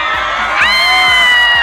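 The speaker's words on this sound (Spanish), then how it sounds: "¡Un aplauso!" Crowd cheering and whooping at an anime fan event in Arica, with sustained shouting voices and a rising whoop partway through, loud and close throughout.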